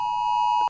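A steady, piercing emergency alert tone sounds from a phone, one continuous high beep held loud and alone for most of a second before cutting off abruptly.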